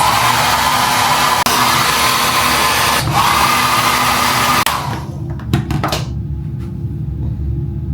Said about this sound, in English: I'm gonna have to like blow dry these at least so that it blends out a little bit better